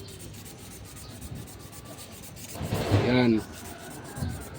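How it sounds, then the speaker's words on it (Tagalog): A blackened part from a Hanabishi table fan being sanded during a repair, a faint steady rubbing that swells into a louder rasping stretch, with a brief spoken word nearby. "Pagkatapos naman, nilihain natin yan."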